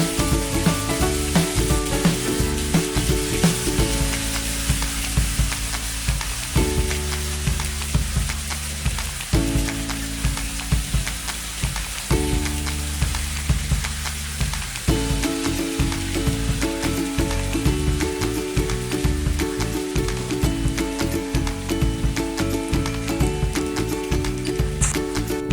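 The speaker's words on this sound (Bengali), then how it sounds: "তেলটা গরম হওয়ার পরে চিকেনগুলো এখন দিয়ে দিচ্ছি এক এক করে" Chicken pieces frying in hot oil in a pan, a loud continuous crackling sizzle that swells and dips as pieces go in, close and steady with no talk.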